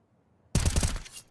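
Gunfire in the video game Counter-Strike during a FURIA professional match, a sudden loud burst of rapid shots after a near-silent start, lasting under a second.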